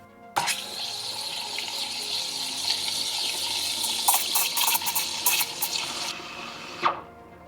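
A coffee machine's steam wand froths milk on its strongest setting, giving a loud, steady hiss and gurgle that runs for about six seconds before cutting off on its own, close and alone.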